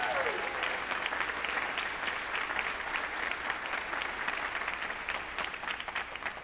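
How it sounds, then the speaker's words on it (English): Audience applause fills a school spring band concert hall, a steady, fairly distant wash of many hands clapping over about six seconds, easing slightly toward the end. "give Mrs. Helgerman a round of applause"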